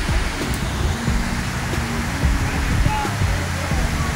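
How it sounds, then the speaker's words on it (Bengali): First Falls in Shillong, Meghalaya, a constant broad rush of falling water heard from close by in the open air, steady and loud throughout with no break. "নীল আকাশের নিচে আমরা দাঁড়িয়ে আছি ফার্স্ট ফলের একদম সামনে"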